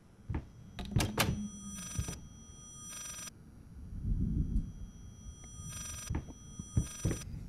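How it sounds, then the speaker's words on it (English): A distorted, reversed-sounding telephone ring in the Layers of Fear horror game, sharp bursts of ringing tones repeating in short irregular clusters over a faint low rumble. "Is that phone ringing in, like, reverse? It sounds like a phone."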